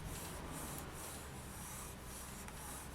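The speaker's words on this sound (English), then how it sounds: "I'm just smoothing that on to make sure that it's well stuck." Fingers rub polymer clay onto a backing with a soft, steady brushing friction, faint and close, continuing without a break.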